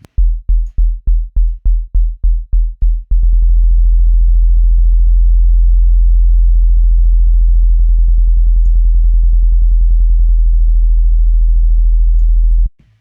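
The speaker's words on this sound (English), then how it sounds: "You can also try looping the kick drum in a sampler and see if a tuner will pick it up." A deep kick drum thumps a few times, then repeats in a rapid, steady loop in a sampler that blurs into a continuous low buzzing tone, pitched at E, before cutting off.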